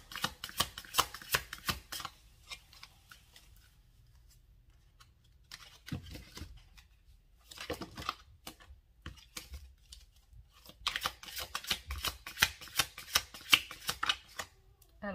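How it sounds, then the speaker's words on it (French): Playing cards shuffled and drawn for a tarot-style love reading, giving bursts of crisp riffling and flicking that come close, stop for a quiet stretch near the middle, then return in quick rapid runs with no voice over them. "je vais tirer plusieurs cartes"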